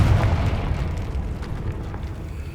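A Confringo blasting curse bursts in a catacomb in the Hogwarts Legacy video game: one loud, deep booming explosion with a rumbling tail that slowly fades.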